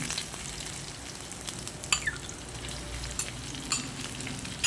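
Minced pork with fried garlic is stir-fried in a pan for water spinach, with a constant crackling sizzle and occasional scraping clinks of a spatula against the pan.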